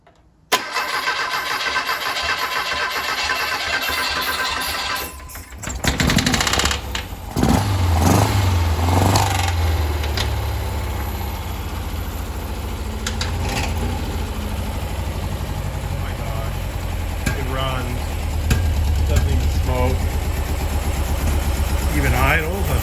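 An air-cooled Porsche 356/912 flat-four engine, sitting unused for over 25 years, cranks briefly and then catches, running with a loud, steady, slightly uneven idle that continues close by for most of the clip, with a voice speaking over it.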